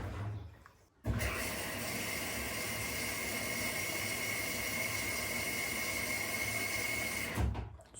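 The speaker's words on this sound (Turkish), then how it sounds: "Bu su alma sesi." A steady, loud broadband rush of water flowing into an Arçelik 10120 M 10 kg washing machine, starting abruptly after a second of quieter hum and cutting off near the end.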